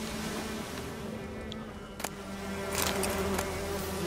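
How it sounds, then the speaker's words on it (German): Bees in The Witcher 3 buzz in a steady, low drone. A brief sharp click cuts through midway, and the buzzing swells slightly near the end, with no talk. "Oh, hier haben wir doch irgendwo Bienen."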